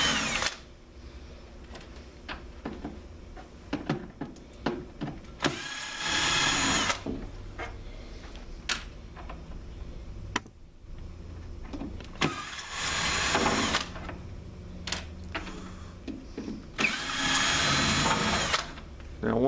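Power drill backing four gold screws out of an ES1000 unit set on its top, three loud whirring bursts separated by quieter handling and clicks.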